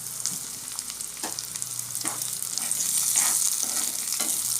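Curry leaves frying in hot oil with onions for dal, a steady close sizzle broken by sharp crackling bursts and spatters roughly every second, with no talking.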